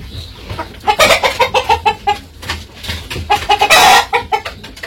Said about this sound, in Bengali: মুরগির খাবার তো দিয়ে গেছে, খাইতেছে মুরগি